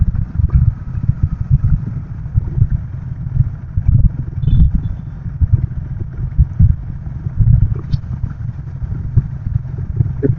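A Royal Enfield Himalayan 450 motorcycle is ridden on cold roads around Bareilly, its low engine drone and wind rumble steady and loud throughout, with faint clatter and no talking.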